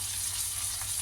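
Chopped medium tomato frying in a pan for a spiced puffed rice dish makes a steady close sizzle with a faint low hum underneath.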